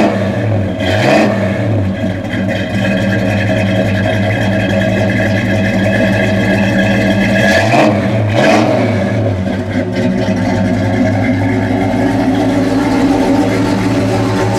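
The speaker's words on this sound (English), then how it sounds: "it's got a great dual exhaust sound to it" Dual exhaust rumble from a 1971 Chevelle convertible's 307 V8 with stock manifolds, a deep steady idle broken by two sharp revs that rise and fall, loud and close with no talking.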